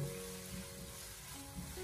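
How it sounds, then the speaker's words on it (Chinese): Ginger and scallions stir-frying in a wok give off a soft, continuous sizzle that stays low and even through the short stretch. "这一步需要先把姜葱炒香，给它炒出香味"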